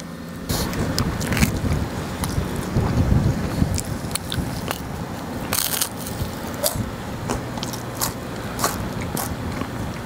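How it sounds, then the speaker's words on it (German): Wind gusts across a mountain campsite at Campo Imperatore in the Gran Sasso, Abruzzo, buffeting the microphone with a steady low rumble broken by crackling, crunchy bursts throughout. "Da haut gleich der Wind den Schaum weg."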